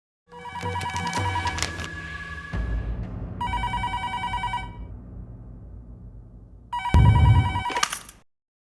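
A telephone bell rings loudly in repeated bursts of electronic trilling, with short gaps between rings and no voices, in a domestic drama scene.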